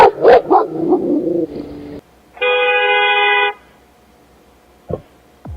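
A neighbor's dog barks loudly and close, a quick cluster of sharp barks followed by a long steady whine-like yelp and then one faint bark.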